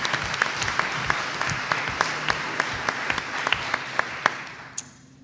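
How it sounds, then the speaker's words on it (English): Audience applause for a school's teacher of the year fills the room, a dense steady wash of clapping with a few sharp individual claps standing out, fading toward the end. "How about a round of applause for Marissa?"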